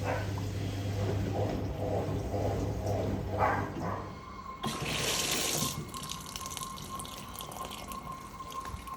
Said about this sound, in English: Filling for rinse.